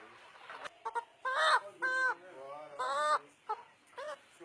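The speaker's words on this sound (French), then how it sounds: "Puis direction le poulailler." Chickens cluck and squawk inside a henhouse at a poultry farm, a run of short calls and several longer drawn-out squawks rising over a low background hum, fairly close.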